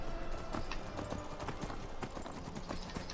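Horse hooves clip-clop steadily in Skyrim, a quick regular trot of hollow knocks in the middle distance over ambient background noise.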